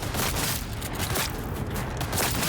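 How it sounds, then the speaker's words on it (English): A grenade blast in Cyberpunk 2077 lands as a dense, loud rumbling burst, with debris and crackling gunfire-like noise smeared across the whole stretch, close and continuous. "Grenade!"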